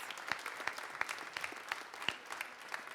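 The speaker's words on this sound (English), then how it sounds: "let's give a round of applause to our winners and to all of our finalists" Applause for the winners and finalists at a venture fund pitch competition, a soft, fairly distant spread of clapping from a modest crowd with a few sharper claps popping through.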